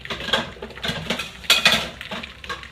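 A skillet being handled on the stove during home cooking, giving a close series of metallic clanks, scrapes and utensil rattles, fairly loud and busy, with no talking.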